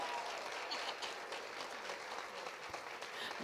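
A church congregation at a Sunday worship service claps together in steady, dense applause that holds without a break.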